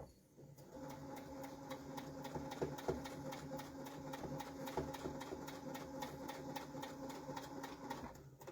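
A sewing machine stitches a miniature quilt block in a fast, even run of needle strokes with a motor hum underneath, close by and steady for several seconds.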